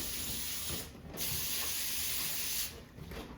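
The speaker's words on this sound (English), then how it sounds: "I'm going to spray each baking sheet." Cooking spray hisses onto foil-lined baking sheets in a home kitchen, two long steady bursts separated by a short pause and then a brief third spray, close and fairly soft.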